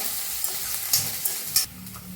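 Chopped green chilli, ginger and garlic sizzle in oil in a pan for apple pickle, with a few scraping stirs of a spoon punctuating the steady frying hiss.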